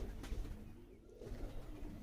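Soft, low pigeon cooing from birds held in hand during a pigeon pairing demonstration, faint and muffled over a rustling background.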